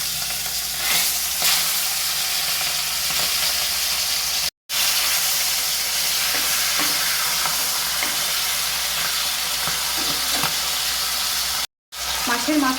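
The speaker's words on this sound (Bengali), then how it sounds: "কড়াইতে তেল ভালো করে গরম করে নিয়েছি, মাছের মাথাটা এই গরম তেলে দিয়ে দিচ্ছি ভাজার জন্য।" A fish head sizzles and spits in hot oil in a wok, making a dense, steady frying hiss with occasional crackles and stirring scrapes throughout, and no talking.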